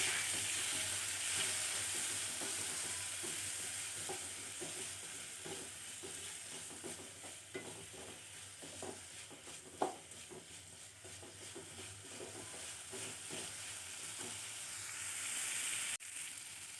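Tomato and thuthuvalai leaves sauté in a hot pan, giving a continuous sizzling hiss with faint stirring scrapes and light patter throughout. No one speaks.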